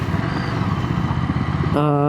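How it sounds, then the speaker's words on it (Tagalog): A motorcycle engine idles in a garage, a steady low rumble that becomes a louder, harmonic-rich running tone near the end. "nire-ready ko kasi tong motor"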